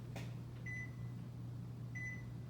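An oven timer being set in a home kitchen, giving two short, high electronic beeps about a second apart over a steady appliance hum.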